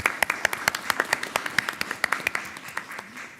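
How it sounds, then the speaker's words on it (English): A few people at a board meeting give a brief round of applause, sparse distinct claps in a quick irregular rhythm that thins out after about three seconds. "That calls for an applause."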